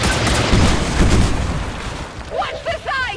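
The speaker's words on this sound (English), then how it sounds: "And here comes the grenades" Grenade blasts in XCOM 2 sound as dense, rumbling booms through the first two seconds. A person talks over the tail end.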